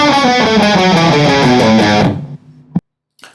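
Electric guitar playing bars 3 and 4 of a song, a fast run of picked single notes in a tight, even rhythm, loud and close, that stops abruptly and is followed by a short string noise.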